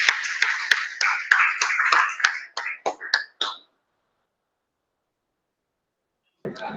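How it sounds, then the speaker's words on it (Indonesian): Clapping for group 1 in a classroom during a multimeter practice lesson: a quick burst of claps for about three and a half seconds that thins out and stops, followed by silence and a brief noise at the end. "Ya, tepuk tangan untuk kelompok 1."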